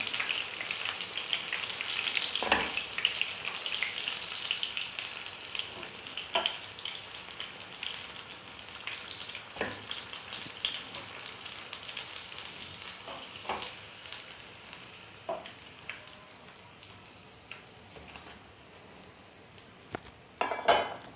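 Veg spring rolls fry in a pan with a continuous bright sizzle, punctuated by occasional clinks of a utensil against the pan, with no talking.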